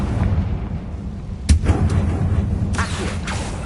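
A Confringo explosive spell in Hogwarts Legacy goes off with a sharp, loud blast, followed by rumbling debris and a second crackling burst over a low, steady ambient drone.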